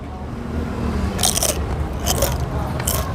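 Crispy lechon kawali, deep-fried pork belly, crunches loudly and close in a few sharp bites, followed by chewing against steady background noise.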